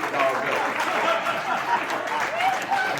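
A comedy night audience applauds continuously for a few seconds, a busy wash of clapping with some voices mixed in.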